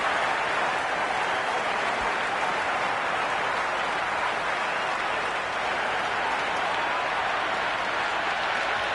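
Stadium crowd applause during an England vs Australia Ashes Test in Cricket 26 on PS4, a steady, dense wash of clapping and crowd noise that holds evenly for the whole stretch with no speech.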